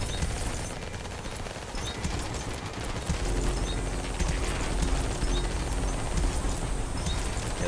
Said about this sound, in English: that minigun, once it starts shooting, outrageous